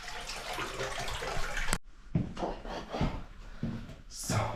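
Water rushes hard through a drain pipe in a flooded basement with severe backflow during pipe cleaning: a loud, steady broadband roar that cuts off abruptly, followed by scattered knocks and splashes.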